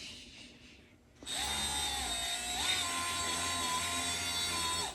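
A handheld power tool with a mesh grinding attachment starts up after a quiet moment and runs as a loud steady whine, its pitch stepping up briefly midway, close to the listener with no talking.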